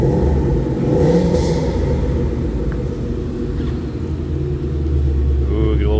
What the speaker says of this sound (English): Ooh, get a little supercharger whine on there too.